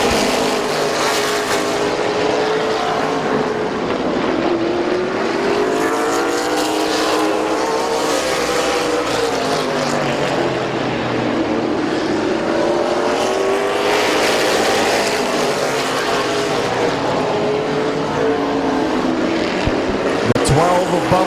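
Race cars lap Midvale Speedway, with multiple engines roaring continuously and pitch sweeping up and down as they circle. It stays loud throughout under a track announcer's running commentary.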